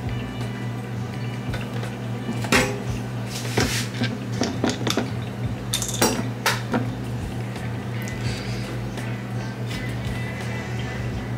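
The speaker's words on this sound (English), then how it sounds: "I'm about to cut my lemon and my lime, but Rasheed is brewing coffee." A knife slices a lemon and a lime in a home kitchen, with sharp clicks and clinks on the board over a steady appliance hum.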